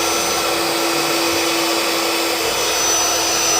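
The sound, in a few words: Philips vacuum cleaner running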